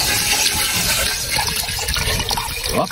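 Water poured into a cooking pot holding chicken feet, garlic and peppercorns for adobo, a continuous close gushing splash that rises slightly toward the end, with no talk.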